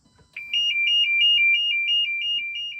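A diesel heavy-equipment reversing alarm beeps in a fast, steady pulsing pattern, loud and close, after a brief rustle at the start, with no talking over it.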